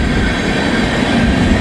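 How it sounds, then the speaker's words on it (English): A train rolling past on the rails, a loud close steady rumble with metallic wheel noise, continuous with no talking. "Train was coming."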